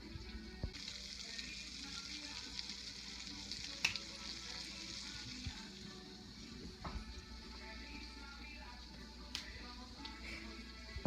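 Pork chops frying in a pan, a steady close sizzle and crackle that holds evenly throughout with a few small pops and clinks, no talking.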